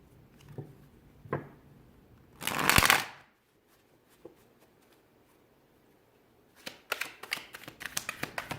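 Tarot cards are shuffled close by: a few soft flicks, a loud riffle burst, a quiet stretch, then a quick run of sharp snapping riffles at the end.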